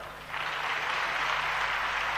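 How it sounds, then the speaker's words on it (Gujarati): Applause from an audience at a live Gujarati stage performance, a dense steady clapping that swells in after a brief lull and holds loud and continuous to the end. "એને તાળીઓથી વધાવો."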